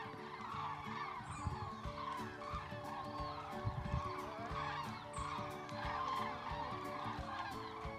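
Geese circle overhead on the first of November, giving repeated nasal honks at an uneven rhythm over a steady, busy outdoor background.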